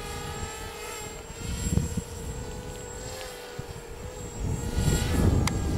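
A Pixhawk autonomous quadcopter drone flies outdoors in strong wind, its steady motor whine holding level throughout, with gusts of wind noise underneath and no talking.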